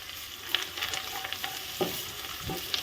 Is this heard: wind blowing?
no